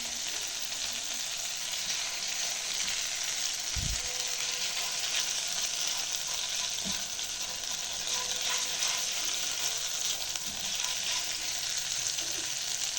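Chopped greens sizzle steadily in hot oil for Egyptian molokhia, a continuous close frying hiss with a soft thump of stirring near the start and a few faint scrapes later, no voices.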